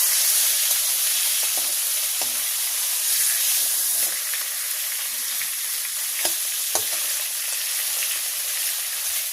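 A silver carp fish head frying in a pan in a village kitchen: a steady, loud sizzle and hiss of hot oil with scattered pops and light clinks, no talk.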